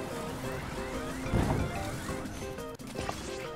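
A character wades and swims through water in the video game Zelda Tears of the Kingdom, with a steady sloshing wash and a brief splash under layered game music.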